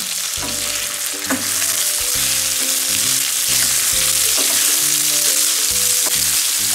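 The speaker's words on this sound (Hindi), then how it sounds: "चिकन थोड़ी सी वाइट होने लगे यानी फ्राई होने लगे" Chicken cubes fry in a pan with onions that have turned translucent, giving a steady close sizzle with light stirring and utensil scrapes throughout, no talking.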